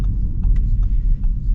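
A 2024 Audi S5 Sportback rolls over a bumpy road, heard from inside the cabin as a steady low rumble with soft thumps and knocks from the suspension.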